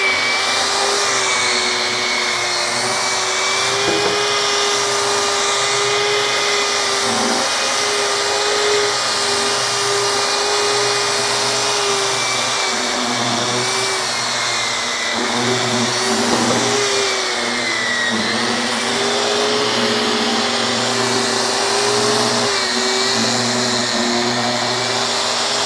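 A polisher with a pad works metallic epoxy polish across an epoxy countertop, giving a continuous close motor drone with a faint high whine. The tone stays level, with slight shifts as the pad moves.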